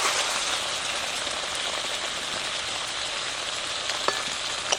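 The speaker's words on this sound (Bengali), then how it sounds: "এবার ঢেকে ঢেকে মাংসটা ভালো করে কষিয়ে নেব" Mutton pieces cook covered in a pan for a village-style mutton curry, giving an even, hissing sizzle like light rain throughout, with a couple of faint stirring knocks near the end.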